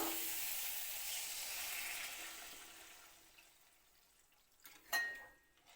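Water is poured into a pan of sizzling fried spiced potato and raw banana. A loud hiss slowly dies down, then a short splashing burst follows near the end.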